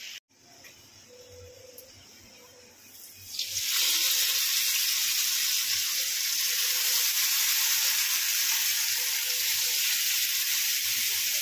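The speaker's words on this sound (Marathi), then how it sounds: "आणि आपण हे पापलेट आता मस्त कडक असे फ्राय करून घेऊया." Semolina-coated pomfret fish frying on a hot tawa: a quiet start, then a loud, steady broadband sizzle bursts up after a few seconds and holds evenly to the end, close and with no talking.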